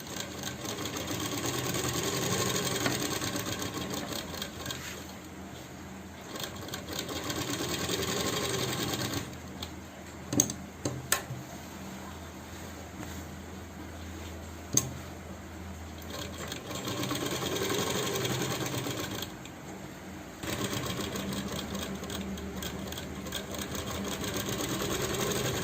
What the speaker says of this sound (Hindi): अब हमें इसका स्लिट स्टिच करना है, वो साथ लग कर स्टिच।